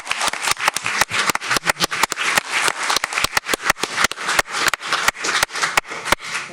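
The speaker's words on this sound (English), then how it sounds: "And let's also give Alden a round of applause as well too." An audience at an elementary school district board meeting claps steadily for several seconds, a dense patter of many hands with sharp individual claps standing out, with no talking over it.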